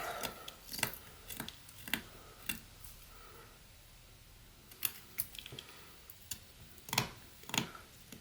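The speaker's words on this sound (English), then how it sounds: "So let's put a stop cut in here, and we'll see how that comes out." Pocket knife cutting a stop cut into walnut wood while whittling, a series of sharp, dry clicks and short crisp snaps in irregular bursts, close up and fairly quiet with no talk.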